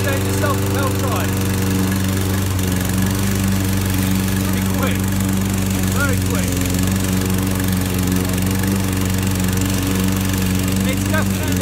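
Self-propelled front-wheel drive petrol lawn mower running steadily outdoors, a loud continuous engine drone with a constant hum and buzzy overtones, close by and unbroken throughout.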